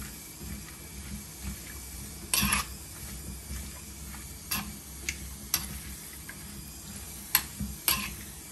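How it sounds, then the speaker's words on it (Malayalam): Chinese potato (koorka) mixed with spices in a pot: irregular scraping and clinking strokes of a utensil against the pot, close and moderately quiet. "ഇതെല്ലാം നമുക്ക് ഇളക്കുക, നന്നായിട്ട് മിക്സ് ചെയ്ത് വെച്ച്"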